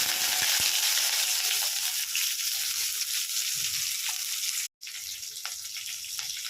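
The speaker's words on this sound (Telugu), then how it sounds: "ఆనియన్స్ వేసుకొని కొంచెం కరివేపాకు వేసుకొని ఫ్రై చేసుకొని సైడ్కి తీసి పెట్టుకోవాలి" Onions and curry leaves frying in hot oil in a kadai, a loud continuous hiss with occasional light crackles and a brief break near the end.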